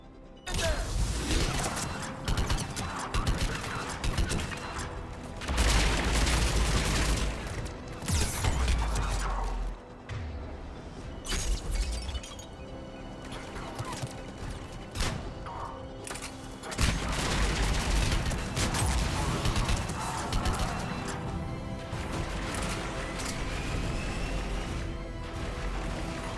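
Sustained gunfire from Cerberus troops in the shooter Mass Effect 3, with dense volleys and rapid automatic bursts mixed with mechanical clanks and crashes. It stays loud and close for most of the stretch and dips briefly once before the fighting swells again.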